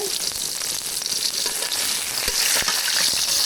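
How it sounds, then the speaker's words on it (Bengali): Eggplant pieces deep-fry in oil with a dense, steady sizzle, close and fairly loud, broken by occasional sharp clicks of stirring. "আর এইভাবে বাকি বেগুনগুলো ভেজে নেব।"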